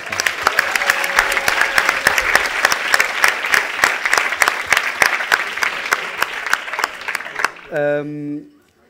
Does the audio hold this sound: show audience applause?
yes